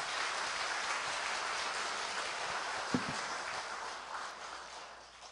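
A seminar audience at a church welcomes a guest speaker with steady, dense applause that holds evenly and then fades slightly toward the end, with no voices over it.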